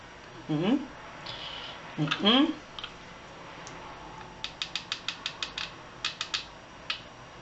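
A hot glue gun is used on a mini junk journal: two squeaky pulls come first, then a quick run of sharp, close trigger clicks, with faint voice sounds around them.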